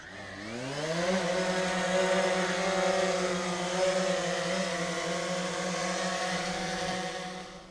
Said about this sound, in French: on va faire décoller le DJI, le Phantom 3 Advanced